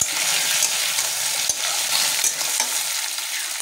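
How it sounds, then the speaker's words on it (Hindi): Taro root (arbi) pieces frying with onions in a pan, a loud steady close sizzle with occasional soft clicks from stirring. "इसी तरह से अरवी के आलू को अच्छे से फ्राई कर लेना है 2 से 3 मिनट तक"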